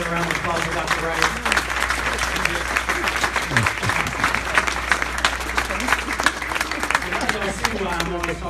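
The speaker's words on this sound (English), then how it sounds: "Can you give another round of applause for Dr. Wright?" Audience applauding at a church-style community gathering, a dense steady clapping that fills the whole stretch at moderate distance.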